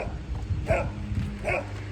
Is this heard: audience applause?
no